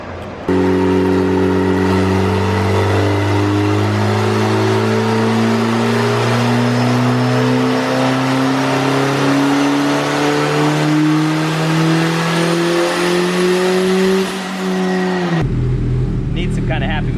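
Turbocharged AWD Honda Civic wagon engine revs loud and close, a steady rising drone held for about fifteen seconds before cutting off abruptly, with voices talking over it.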